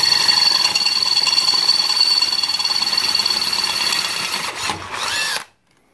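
A power drill whines loudly and steadily close by for several seconds, then abruptly stops, leaving silence.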